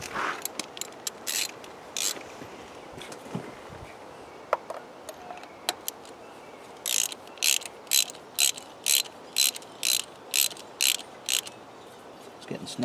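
A ratchet wrench snugs a spark plug into the aluminum cylinder head of a 2010 Ford Fusion SE, first with scattered clicks and rattles, then a steady run of rapid, close ratcheting bursts at an even rhythm.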